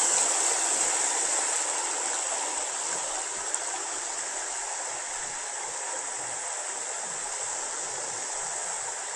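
Water pours steadily over the infinity edge of a backyard pool, a constant broadband rush like a small waterfall that holds at an even, moderately loud level for several seconds, with no voices.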